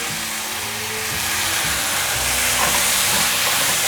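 Tomato, carrot and mushrooms stir-fried quickly in a hot pan give a loud, continuous broadband sizzle and hiss, steady for a few seconds with no voices.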